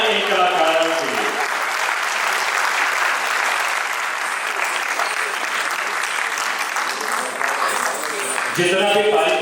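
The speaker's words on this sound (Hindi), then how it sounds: "जोरदार तालियां इन कलाकारों के लिए।" An audience gives loud, sustained applause for performers at a stage event. The clapping is dense and steady for most of the clip, with a voice speaking at the start and again at the end.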